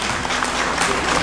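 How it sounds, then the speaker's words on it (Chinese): Wedding guests at a banquet in Taiwan clapping together, a dense burst of crowd applause heard close and fairly loud for a brief moment, with a voice underneath. "掌声哦，谢谢。"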